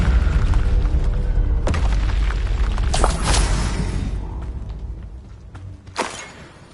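In the Hogwarts Legacy video game, a Descendo spell lands with a heavy rumbling boom, followed by sharp crashing hits and a fading low rumble, loud and without speech.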